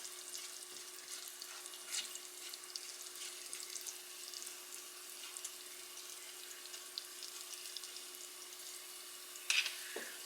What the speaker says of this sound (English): This is actually starting to like boil a little bit now. So I'm gonna swish it around some more so it's not burning.